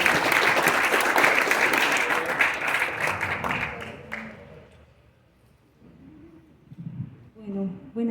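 Applause from a conference audience fills the room loud and dense at first, then thins out and fades over several seconds, with faint voices returning as it dies down.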